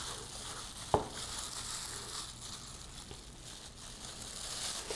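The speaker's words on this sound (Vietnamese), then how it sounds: "rồi là mình sẽ bỏ vào chiên." Spicy Vietnamese dough sticks (bánh cay) frying in hot oil give a steady, close sizzling hiss with light crackles and one sharp tap near the start.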